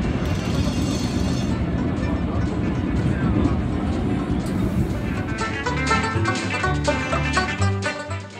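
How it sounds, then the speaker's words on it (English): A high-speed passenger train to Moscow rumbles steadily along the rails, with a low continuous roar and faint rhythmic clatter; some voices murmur in the background. "Fastest train in all of Russia."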